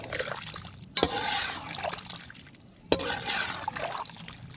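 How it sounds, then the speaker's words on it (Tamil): Water splashes into a pot of masala chicken curry in two distinct pours, each opening with a sharp splash that fades into a trickling wash. "இந்த நேரத்தில் தேவையான அளவு தண்ணி சேர்த்துக்க போகிறோம்"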